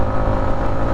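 Yamaha MT 15 v2 motorcycle with stock exhaust accelerating, a loud, dense engine roar with steady rhythmic pulsing heard up close for a brief moment.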